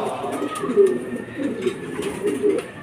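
Homing pigeons arriving at a club loft during a training flight make soft, repeated low cooing in the near distance, with faint background voices and outdoor ambience.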